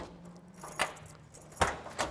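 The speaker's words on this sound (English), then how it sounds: "See if we can figure out which one of these 14 keys opens up the trunk." A bunch of fourteen keys jangles at the trunk of a 1968 Plymouth Barracuda, giving a few short metallic rattles and clinks at close range with a faint low hum underneath.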